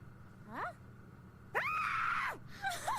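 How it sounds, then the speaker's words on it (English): A scream from the animated show RWBY: a short rising cry, then a loud, sustained shriek of about a second, then a brief final cry, all with no talk. "Well, that was a good scream."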